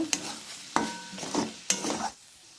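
A spoon stirs potatoes frying in a pan with ground cumin and black pepper, three scraping strokes over a soft, steady sizzle.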